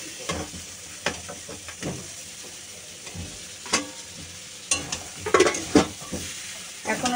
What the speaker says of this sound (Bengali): এই দেখো মশলাটা আমি কি সুন্দর করে লাল লাল করে একদম তেল ছেড়ে দিয়েছি, কষে নিয়েছি